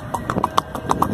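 Hooves of a ridden horse clip-clop in a steady, close rhythm of about eight sharp strikes within a second.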